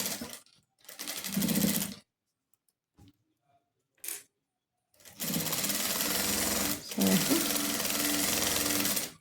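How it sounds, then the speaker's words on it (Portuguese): A sewing machine stitches a seam around a fabric headboard cover in loud, close bursts of rapid whirring, separated by pauses, with a person talking nearby. "Vou fazer uma costura em toda a volta."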